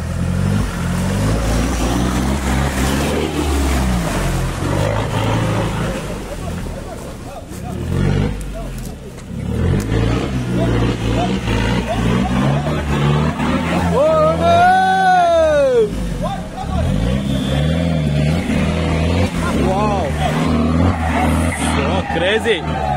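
4x4 off-road vehicles at a rally near Koppa on wet, slippery ground, engines roaring and revving loudly with tire squeal, while excited commentary runs over the top.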